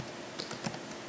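Several quick, light keystrokes on a computer keyboard, close but faint, clustered in a short burst over a quiet background.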